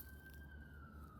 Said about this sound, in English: Those sirens are going off for a reason.